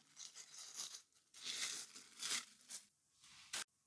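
Plastic film wrap is peeled off rice balls in a few bursts of crinkling and tearing, close and quiet, with short pauses between pulls and a final crisp rip.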